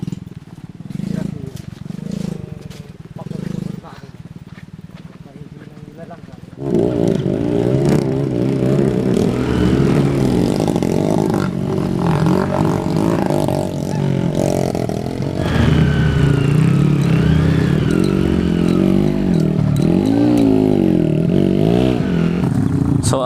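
A motorcycle churns along a rough, rutted trail on the Jones route through San Miguel, Echague, its engine revving and labouring loudly with clattering over bumps, after a quieter opening with talk.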